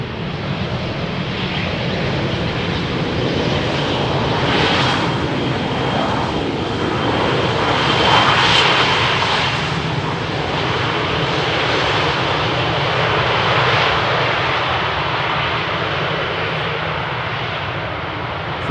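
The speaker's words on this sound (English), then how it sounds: "Behind it is going to be an Embraer from KLM coming in from London City." KLM Embraer jet arriving on runway 18R at Amsterdam Schiphol, a continuous distant roar that swells and fades gently as it passes, heard alone without talk.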